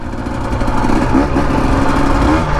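A 2025 Husqvarna TE250 dirt bike riding desert trails in second gear, its engine droning steadily and close with a slight rise in revs and a continuous buzzing whir.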